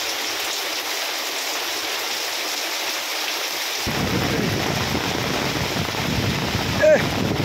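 Heavy rain pours down in a rainstorm with strong wind, a dense steady roar that deepens and swells partway through, with a faint distant rumble.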